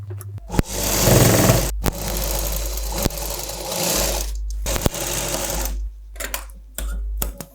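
Sewing machine stitching a jacket seam while mending a hole, loud close whirring runs in several bursts with short pauses and stops between them, no talk.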